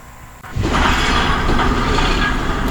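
After a brief quieter moment, the Badulla night mail train runs on its tracks with a loud, steady rumble and rattle that stays close and continuous.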